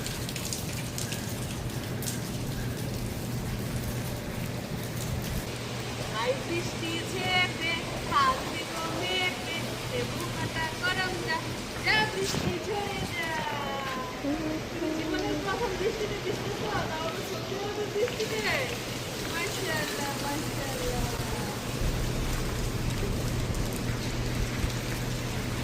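Steady rain falls in Saudi Arabia, a dense, even hiss of drops spattering on surfaces that holds for the whole stretch, with voices talking over it now and then.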